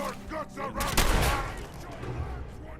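Gunfire from a weapon in the video game Fallout 4: a loud burst of shots around the middle, with busy game sound and bursts of talk on either side.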